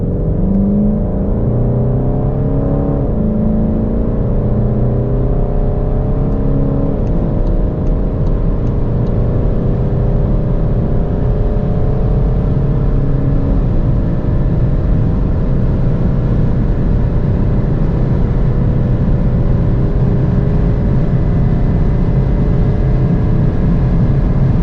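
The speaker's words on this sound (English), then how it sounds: "But let's now see how fast the car goes from 100 to 200." A VW Golf 8 GTD with a 200 hp diesel accelerates hard from 100 to 200 km/h, its engine droning loud and close inside the cabin and rising steadily in pitch through gear changes, with constant road and wind roar and no speech.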